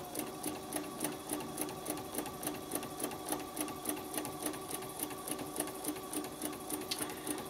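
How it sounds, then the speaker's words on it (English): A sewing machine runs steadily while stitching a spider web design, its needle clatter forming a fast, even rhythm of close, continuous ticks. "I'm going to stitch this way."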